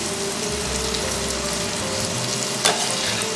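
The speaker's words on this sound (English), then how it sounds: "Once we got all that fat, we can toss in our onions and our garlic." Onions and garlic hit hot rendered bacon fat for cowboy beans, giving a steady, close sizzle and crackle that runs unbroken with one brief clatter near the end.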